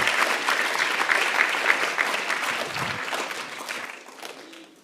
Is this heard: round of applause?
yes